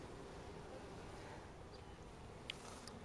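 Honeybees being installed into a hive, a few stragglers still leaving the package, give a steady soft buzzing drone throughout, quiet and continuous, with a couple of brief clicks near the end.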